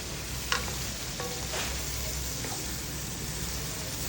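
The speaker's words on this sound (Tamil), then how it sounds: "இந்த கத்திரிக்காவை நீங்கள் ஒரு 7 நிமிஷம் நல்லா அப்படியே வதக்குங்க" Chopped brinjal frying in oil for sambal, a steady close sizzle with a few light clicks of stirring, moderately loud and without talk.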